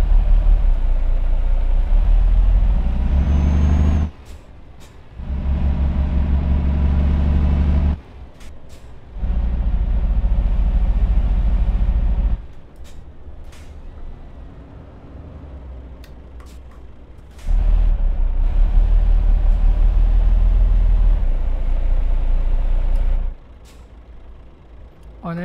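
Heavy truck in Euro Truck Simulator 2, hauling a heavy load with low horsepower, rumbles as it pulls away in a low gear, its loud engine droning in long stretches broken by gear-change pauses and sharp air-brake hisses.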